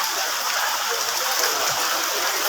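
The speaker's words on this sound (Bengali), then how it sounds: "এই যে আবার বৃষ্টি হচ্ছে" Rain pours steadily onto a flooded market road, a dense, even hiss of falling water with no pauses and no voices.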